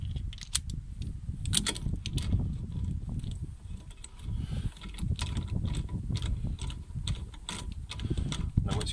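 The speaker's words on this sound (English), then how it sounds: "17 mil socket" A ratchet fitted with a 17 mm socket tightening wheel nuts during a JSB Hublock fitting, giving a dense run of rapid mechanical clicking that stays close and fairly loud throughout.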